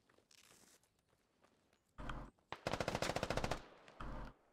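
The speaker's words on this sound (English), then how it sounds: "Viper taking shots by Bybee" Gunfire in a military video game: faint scattered shots, then a sharp burst and a rapid automatic string of about a dozen rounds, followed by one more short burst.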